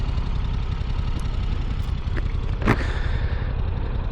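A Yamaha R7 motorcycle engine running steadily under throttle, with a few quick blips as it downshifts, close and fairly loud with a constant low rumble.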